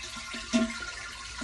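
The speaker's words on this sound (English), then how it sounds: "I'm supposed to flush right now as soon as I film." An old, worn toilet is flushed, with running, gurgling water close by, a brief louder surge partway through, then continued flow and trickling; no one speaks.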